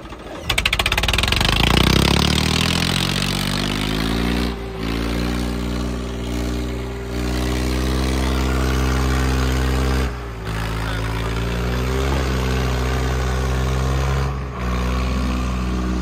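Swaraj 855 tractor engine running loud and close, revving up at the start and then holding a strong harmonic drone, with brief dips in power every few seconds and no voices.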